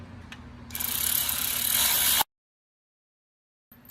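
A ratchet clicks rapidly and closely for a couple of seconds while loosening T40 bolts on the engine of a 2013 L405 Range Rover Supercharged during a timing chain job, then cuts to silence before a faint return.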